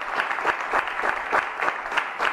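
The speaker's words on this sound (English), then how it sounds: "I want to give a great applause to all my youth members who are here" An audience applauds youth members at a civil services symposium, giving dense, sustained clapping with a pulsing rhythm that continues evenly and fills the room from start to finish.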